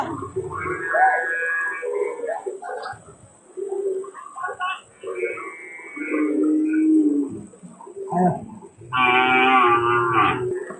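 Cattle moo several times, loud and close, with long droning calls mixed among people talking nearby.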